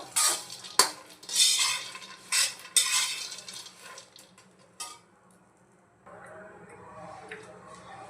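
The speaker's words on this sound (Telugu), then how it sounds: "మొత్తం చక్కగా ఫ్రై చేసేసుకోవాలి సిమ్లోనే ఫ్రై చేయాలన్నమాట" Dry fruits stir-fried in a pan on low heat, with a spoon scraping and clinking against the metal in repeated bursts, close by, then fading to a faint steady hiss near the end.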